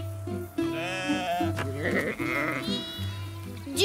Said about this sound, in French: les moutons se sont échappés